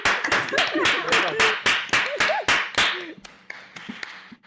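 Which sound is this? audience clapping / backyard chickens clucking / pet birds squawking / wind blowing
audience clapping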